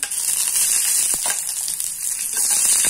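Peanuts and chilies frying steadily in hot oil, a close, continuous bright sizzle with faint crackles and a few stirring clicks, no voices.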